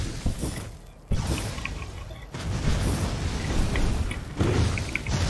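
Explosions in the Chaos Crown action video game burst out several times as sudden, loud broadband blasts, each followed by crackling debris noise over continuous game audio.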